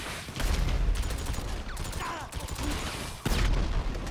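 Dense bursts of gunfire and booming explosions in Grand Theft Auto V, rapid and continuous with a loud blast near the end, in a busy, noisy soundscape.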